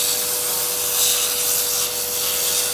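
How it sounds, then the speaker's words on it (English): Sandpaper rubs against the bottom of a wooden turned piece spinning on a lathe, a loud, continuous close-up abrasive hiss over a steady motor hum, with no talking. "Do a quick sand on the bottom of this"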